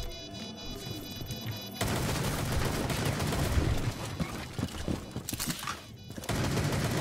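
Gunfire from Rainbow Six Siege, a dense rattle of rapid shots filling most of the stretch, loud and continuous with brief gaps near the end, in a tactical shooter round.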